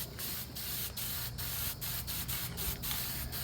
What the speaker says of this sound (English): Cheapest spray paint money can buy.